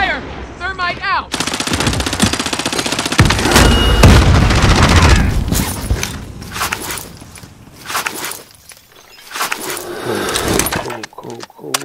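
Rapid automatic gunfire and a fizzing thermite charge in Call of Duty Modern Warfare, loud and close, with bursts, booms and a crackling burn under excited shouted talk from players.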